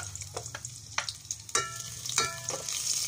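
Garlic frying in a generous amount of oil while being stirred, with a steady close sizzle broken by intermittent clinks and scrapes of a utensil, being sautéed for salmon-head sinigang.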